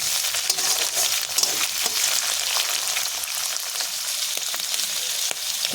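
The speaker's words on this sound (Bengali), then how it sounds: "এখানে দিয়ে দেবো আমি চিংড়ি মাছ। চিংড়ি মাছগুলো দিয়ে আমি ভালো করে নাড়াচাড়া করে নেব।" Prawns fry in oil with browned garlic, crackling in a busy, close sizzle as they are stirred, with sharp pops and scraping throughout.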